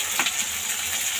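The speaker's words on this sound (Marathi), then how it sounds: "आता आपण त्यामध्ये हा बारीक चिरलेला टोमॅटो टाकून घेऊया।" Finely chopped tomato hits onion frying in a pan, giving a continuous bright sizzle with a few faint knocks of stirring at the start, close and without speech.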